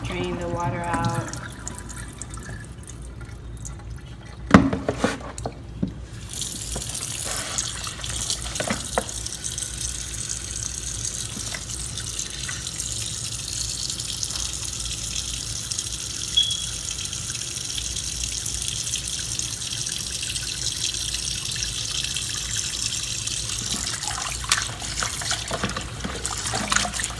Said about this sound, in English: And wash it and rinse it.